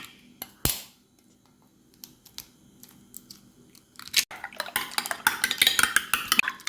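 Eggs are beaten in a bowl while kothu chapathy is made, starting with a sharp knock and sparse taps, then a quick run of close, busy clinking and scraping strokes that grows steadily denser toward the end.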